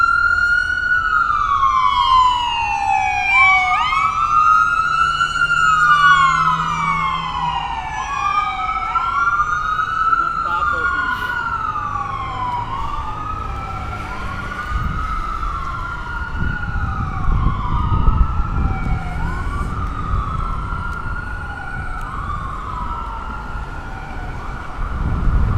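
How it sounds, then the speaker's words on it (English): Emergency sirens wail in rising and falling sweeps, loud and continuous, with several sirens overlapping amid evening traffic rumble in Manhattan, New York City. "There comes the sirens."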